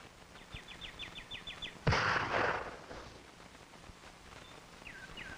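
Remington 540X .22 target rifle fired on an outdoor range, a single sharp close report that rings out and decays over about a second, with faint bird chirps before and after, no talk.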